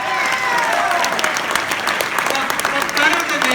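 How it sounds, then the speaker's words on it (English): An audience at a political gathering gives a round of applause, a dense, even spread of clapping with a few voices mixed in. "Let's give him a round of applause."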